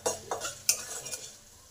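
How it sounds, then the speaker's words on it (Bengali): Dried chillies, bay leaves and garlic with five-spice frying in a pan for an egg curry, a soft sizzle broken by a few sharp clinks and scrapes of a stirring spoon, close and quiet. "এইগুলোকে খুব ভালো করে ভেজে নিতে হবে"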